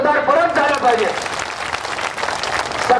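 A crowd at a Kisan Sabha rally applauds Comrade Umesh Deshmukh with loud, sustained clapping. A voice briefly overlaps the start before the applause carries on strongly.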